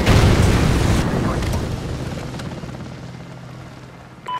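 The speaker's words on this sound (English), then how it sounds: "Friendly chopper inbound." A friendly helicopter in the video game Call of Duty Ghosts passes with a heavy, droning rotor roar that starts loud after a blast and gradually fades away, leaving a faint hum and a short final thump.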